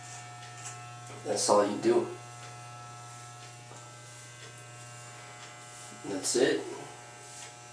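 Electric hair clippers hum steadily at low volume through a home fade haircut, while someone speaks briefly twice over the buzz.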